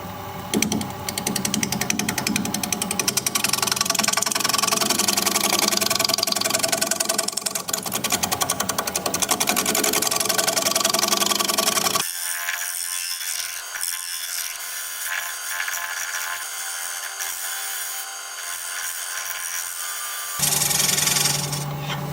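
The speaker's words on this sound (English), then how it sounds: "I'll get my negative rake scraper sharpened up and we'll scrape." Plum wood spins on a lathe while a negative rake scraper works the surface, a loud steady rasping hiss with motor hum that drops to a quieter whir midway, then returns loud briefly at the end.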